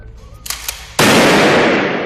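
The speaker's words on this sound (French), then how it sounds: "Donc là, on entend un coup de feu." A gunshot fired during a joint police assault training exercise, a sudden loud crack that bursts out and decays into a long ringing wash, preceded by a few faint bangs and noise.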